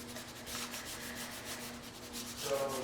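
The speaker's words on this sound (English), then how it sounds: "And you burnish it down" A tool burnishes paper flat on an accordion book with a steady, soft, close rubbing sound that runs unbroken for about three seconds and swells slightly near the end, with no talking.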